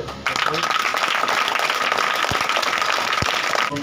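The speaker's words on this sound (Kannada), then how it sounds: "ಒಮ್ಮೆ ಅವರಿಗೆ ಜೋರಾಗಿ ಚಪ್ಪಾಳೆ" A crowd at a coaching centre farewell program breaks into loud, steady applause that fills the room for a few seconds before cutting off abruptly.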